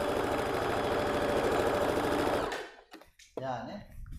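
A sewing machine runs a steady, fast topstitch seam along the pleats of a ruffled pareo, loud and continuous for about two and a half seconds before stopping, followed by brief handling noises and a voice.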